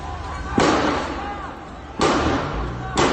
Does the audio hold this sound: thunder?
no